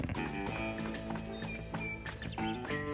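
A horse gallops in a video game, its fast hoofbeats thudding steadily and close throughout, layered over a busy game soundtrack.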